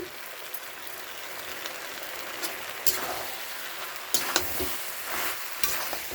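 Vegetables sizzle softly in a pan as they are sautéd, with a steady frying hiss broken by a few louder clinks and scrapes from stirring, close by and with no talking.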